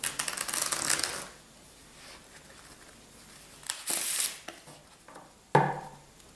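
A deck of playing cards is riffle shuffled during a card trick, giving a dense burst of rapid fluttering card slaps, then quiet handling, another short riffle and a sharp snap as the cards square up.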